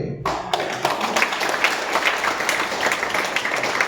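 A crowd of people outside breaks into clapping all at once, a loud and steady wash of applause that carries on without pause and with no one talking.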